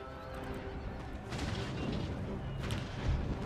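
Artillery booms from a video game battle rumble under a busy wash of distant gunfire and battlefield noise, a few heavier thumps standing out from the steady din.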